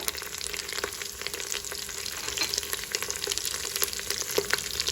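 Turmeric and red chili powder fry in hot oil for bhagara rice, giving a steady close sizzle with occasional crackles and stirring scrapes throughout.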